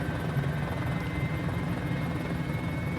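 A Mini-500 helicopter flies near Easter Island, its rotor and engine making a continuous buzzing drone at steady volume with no talk.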